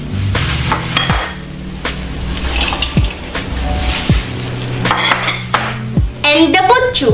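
Sliced carrots and radish dropped into a bowl while making kimchi, with clattering of dishes and utensils, scattered knocks and a brief watery splash near the end, all close by with no talking.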